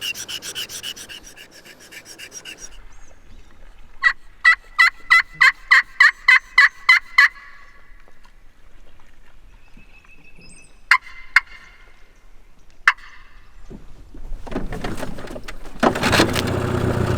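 A wild turkey gobbles in a rapid rattling burst, followed by a few separate shorter gobbles, heard at moderate distance outdoors near a creek, with scraping rubbing noises at the start and end.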